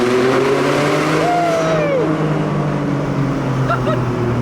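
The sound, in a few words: car engine revving in a tunnel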